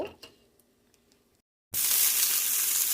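Chopped green chilies hit hot oil in a pan with bay leaf, dried chilies, cardamom and cinnamon, bursting into a loud, steady sizzle after a quiet pause, close and continuous.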